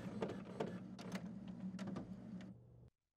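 HP DeskJet 2600 all-in-one printer printing an alignment page, rhythmic mechanical whirring with repeated clicks and carriage passes over a steady motor hum, close and quiet, stopping abruptly near the end.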